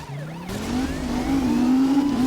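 A white Ferrari in a racing video game, its engine note climbing steadily through the gears, loud and close, with a brief tire squeal at the start.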